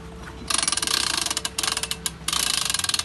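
A hand-cranked winch or hoist turns with a fast, steady ratcheting click, running in three bursts separated by short pauses, loud and close with no talk.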